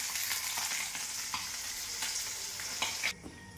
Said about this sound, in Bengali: আর এইটাকে ভাজা হচ্ছে